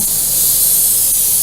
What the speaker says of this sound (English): you can turn the coolant off and just have air, or you can mist with coolant